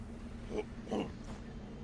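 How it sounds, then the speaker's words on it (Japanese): A person burping during a livestream: two short, low, guttural belches in quick succession, quiet and close, followed by a fainter third sound. "ゲップするのやめて。"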